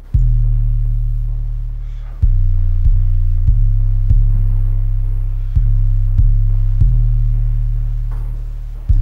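Deep booming 808 bass notes in a dark trap beat built in FL Studio, loud sustained low tones retriggering in a repeating rhythmic pattern with no other instruments prominent.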